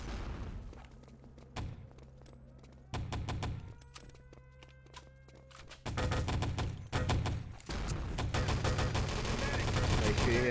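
Gunfire erupts in a competitive 3v3 LAN shooter match: short broadband bursts early on, then a heavy, near-continuous rattle of shots from midway to the end, with a commentator's voice underneath.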